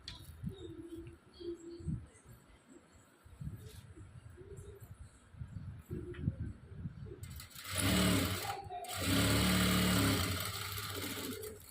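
A sewing machine stitches a prince cut blouse. Quiet handling sounds and a low voice come first, then the machine runs loudly and continuously for the last four seconds with a brief pause.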